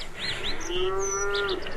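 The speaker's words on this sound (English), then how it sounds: "cows due for milking, too" Cattle low on a farm, a single drawn-out moo near and clear with soft bird chirps above it and wind behind.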